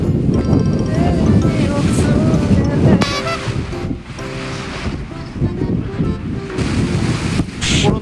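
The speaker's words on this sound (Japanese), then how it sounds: "冬の日本海。" Surf from the winter Sea of Japan on the Kyotango coast, a continuous roar of breaking waves mixed with heavy wind buffeting the microphone, loud and close throughout.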